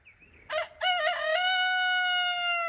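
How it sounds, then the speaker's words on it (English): A single rooster crows loudly and close by, a full cock-a-doodle-doo with a long sustained final note, no talking. "Crow all you want, because your days are numbered"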